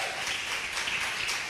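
Church congregation gives a round of applause thanking God during a worship service, a brief burst of dense, steady clapping filling the hall.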